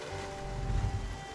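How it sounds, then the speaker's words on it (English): Steady rain in Project Zomboid's Knox County, a continuous broadband hiss with a low rumbling undertone, even and moderately loud throughout, with no voices. "the rain is back again"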